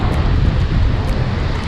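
Strong wind roars and buffets steadily against the microphone at Praia do Guaiuba beach, Guarujá, Brazil, a dense, loud rush with no talking.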